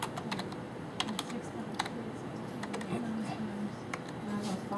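Steady typing on a computer keyboard, with dense quick key clicks running through the whole stretch at a moderate, close level, along with a faint low hum underneath and a few sharper key taps.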